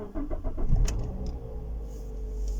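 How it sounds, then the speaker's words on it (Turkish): A Toyota Corolla 1.6 petrol engine cranks briefly and catches, settling into a steady idle rumble close to the microphone. "Şimdi aracımızı çalıştıralım. Size ilk çalışışını da göstereyim."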